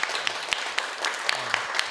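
Elementary school pupils clap for the mayor on a visit to city hall, a sparse, uneven patter of hand claps with a few sharper individual claps standing out, fairly quiet and indoors.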